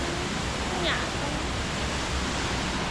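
Pam Bok waterfall near Pai pours hard and close, a dense, loud, unbroken roar of rushing water with no other sounds standing out.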